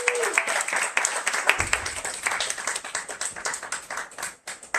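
Applause from an audience at a book launch reading in Los Angeles, a steady patter of clapping lasting several seconds and fairly close.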